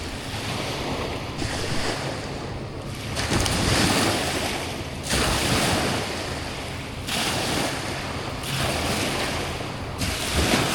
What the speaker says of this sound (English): got some nice waves from that barge going downstream. Always makes the river go crazy.